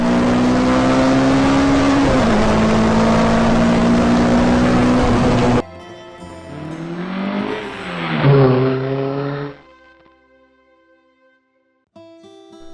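Rally cars racing over a rough, broken mountain road in the Himalayas during a motor rally, engines roaring loudly and steadily up close, then a second, quieter surge as another car rushes past before the sound fades.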